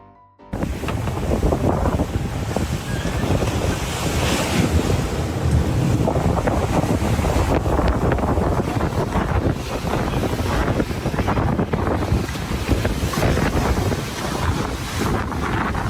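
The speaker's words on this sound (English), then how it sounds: "Just look at this little boat fighting against massive waves." Loud, constant roar of heavy ocean surf and wind buffeting a boat, with crashing water surging throughout and no voices.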